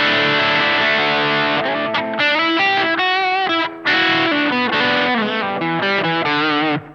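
Electric guitar on its bridge pickup driven through a Marshall-in-a-box distortion pedal, a continuous run of crunchy, saturated riffs and sustained notes, loud and up close with no talking.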